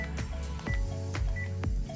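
A Panasonic cordless phone handset gives a few short electronic beeps, each with a soft key click, as its menu is scrolled. The beeps are close and sound alone.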